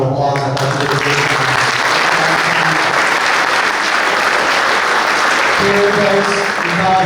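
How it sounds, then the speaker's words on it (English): An audience at a boys lacrosse banquet claps loudly and steadily for several seconds, a full room of applause that tapers slightly at the end. "give Deb Gregoire a round of applause"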